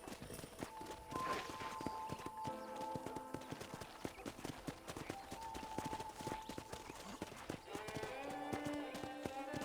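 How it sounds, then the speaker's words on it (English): Steady clip-clop of horse hooves at a walking pace while riding in the video game Red Dead Redemption 2, with a gentle game music bed running underneath. "let's see if you can still ride a horse"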